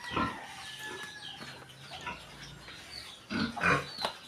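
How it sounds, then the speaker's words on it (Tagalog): Three-month-old pigs on a Philippine farm grunt in short bursts, close by and moderately loud, mixed with clucking chickens in the background. "Yung aming pong baboy."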